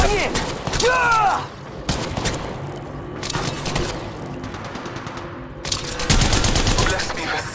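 Rapid automatic gunfire in the mobile battle royale game Apex Legends Mobile, loud bursts of shots in repeated volleys with brief pauses, a character voice line heard between them.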